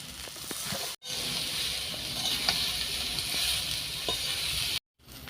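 Greens with fried potato, turmeric and chili sizzle and hiss loudly in a hot pan, with soft scraping stirs throughout and two brief cuts in the sound.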